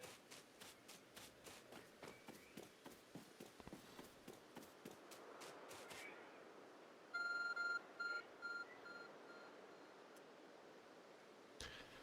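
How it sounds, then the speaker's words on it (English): A glowing object in Pokémon Legends: Arceus gives off a few short electronic beeps in a quick cluster, following a run of rhythmic footsteps, with quiet ambience around it. "There's a glowing, beeping object over there."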